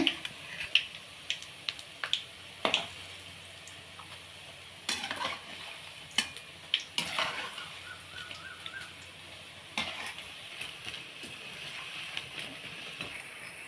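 Ragi pieces fried in a pan and stirred, giving a steady low sizzle broken by irregular scraping and clinking strokes of a utensil against the pan, close by, with no talking.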